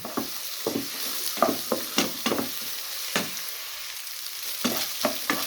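Turnip halwa cooks in a pan under repeated scraping spoon strokes, each one a short rasp over a low bubbling sizzle, close and fairly loud with no talking.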